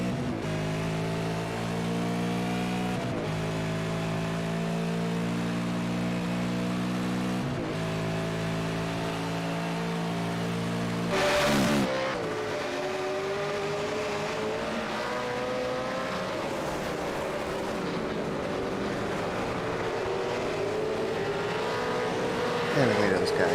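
V8 race cars at Imola in the iRacing sim's V8 America's Series roar continuously, engines climbing and dropping through gear changes, with a brief loud burst midway and a commentator talking over the racing.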